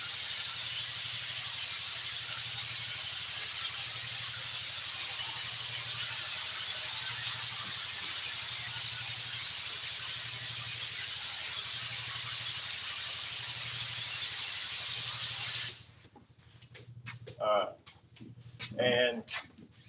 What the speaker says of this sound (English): just spraying the board.